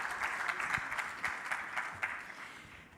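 A conference audience applauds panelists at a tech event, a dense, even patter of clapping that fades toward the end.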